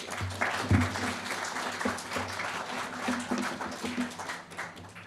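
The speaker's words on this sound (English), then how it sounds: "Another round of applause," A conference audience at a security talk gives a round of applause, steady clapping that fades slightly toward the end, with some faint voices mixed in.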